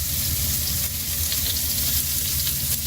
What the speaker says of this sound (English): Let's start off with the onions. Get those cooking right away.